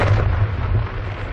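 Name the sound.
hospital blown up by barrel bombs, explosion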